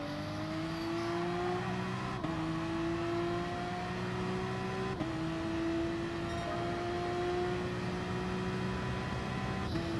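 Race car in GT Sport at Suzuka sliding through a chicane, a steady close engine whine held near constant pitch, broken by quick gear shifts that briefly drop and then restore the tone.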